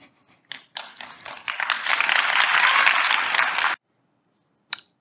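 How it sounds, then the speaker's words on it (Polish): An audience at a public event for Leszek Balcerowicz bursts into applause after an answer, swelling to a dense, steady round of clapping for about three seconds before stopping abruptly, with a few scattered claps before and one after. "te oklaski na koniec e, mnie zawsze rozwalają"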